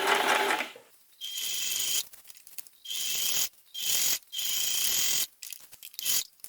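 A sewing machine sews panels of a 20-litre ultralight daypack together, with loud, close runs of rapid stitching broken by short pauses, the bursts starting and stopping roughly every second.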